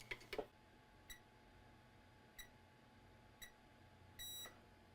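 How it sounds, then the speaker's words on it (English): Multimeter in diode mode testing wire connections on an Asus tablet board, a few short faint beeps spread across several seconds after some clicks at the start, with a longer beep near the end. "Multimeter in diode mode."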